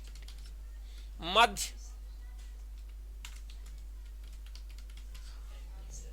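Keys on a computer keyboard are tapped in light, scattered clicks at close range over a low electrical hum, with a short spoken word near the start.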